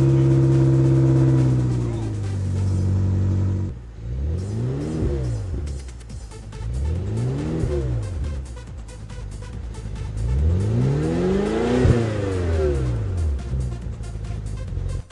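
The 4.4-litre twin-turbo V8 of a BMW X5M/X6M revs repeatedly, its pitch climbing and falling in several rising sweeps. It sounds loud and close, with someone narrating over the engine.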